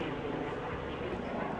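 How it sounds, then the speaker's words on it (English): An airplane passes overhead as a faint, distant and steady broadband rumble that holds evenly for the whole moment. "that's a plane."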